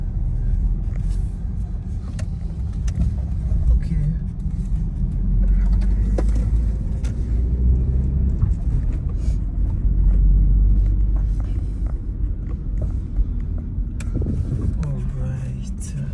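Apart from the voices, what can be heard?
bus at a bus and train station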